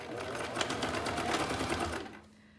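A sewing machine stitches a pleated fabric face mask in a fast, even whirring chatter of needle strokes, close and clear, then stops, leaving a faint motor hum.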